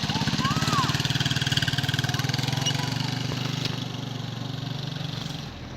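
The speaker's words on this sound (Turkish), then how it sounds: "Garga motosikletle geziyor." A motorcycle engine chugs steadily at a low, throbbing idle throughout, with voices talking and laughing over it.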